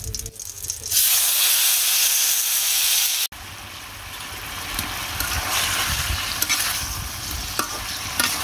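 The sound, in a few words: marinated meat sizzling as it is added to the pan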